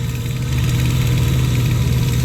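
A John Deere 3020 tractor engine runs steadily on a farm during haymaking, a loud, continuous low diesel rumble with no talk over it.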